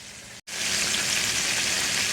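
Loud, steady sizzling of chicken pan-frying, not deep-fried, broken by a brief moment of quiet before the crackle resumes.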